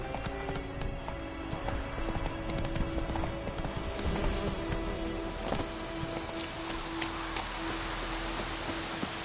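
Horse hooves trot in The Witcher 3 video game, a steady, even clip-clop running throughout over a constant bed of ambient noise and sustained tones.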